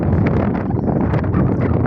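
Heavy sea wind batters the microphone aboard a small fishing boat, a continuous, loud rushing roar that holds steady throughout.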